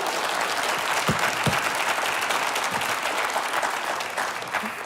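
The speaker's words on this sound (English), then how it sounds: "a big round of applause." A crowd at a live morning show at Mesa Community College gives a big round of applause, dense and sustained clapping with a few sharper nearby claps standing out, no talking over it.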